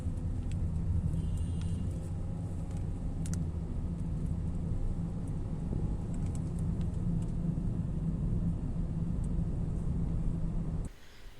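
A new Honda Jazz with a BS VI engine on the move, giving a steady low engine and road rumble from inside the cabin that holds evenly for about eleven seconds before cutting off near the end.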